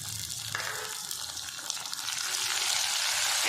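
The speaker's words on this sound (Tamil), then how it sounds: "தக்காளி நல்லா வதங்கணும்." Chopped tomatoes sauté with onions in a pan for a bitter gourd curry, a soft steady sizzle that grows slightly louder toward the end, close by, with no talking.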